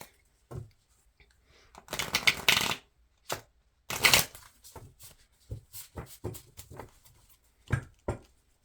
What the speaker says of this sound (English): I feel like I need to shuffle.